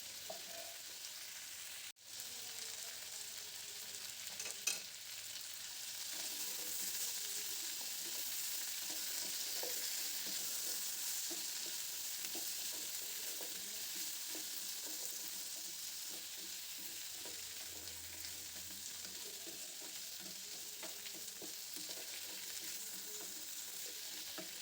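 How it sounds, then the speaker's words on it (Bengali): Pumpkin frying in a pan with turmeric and salt, a steady even sizzle that holds throughout, with one brief clack near the start and faint stirring scrapes beneath. "মিষ্টি কুমড়োটা ভাজতে ভাজতে এর মধ্যে আমি হলুদ আর লবণ দিয়ে দেব।"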